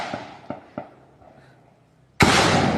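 Gunfire during a shooting incident in Dipaculao, Aurora: three sharp, fairly distant cracks in quick succession, followed by a sudden loud, continuous rushing noise.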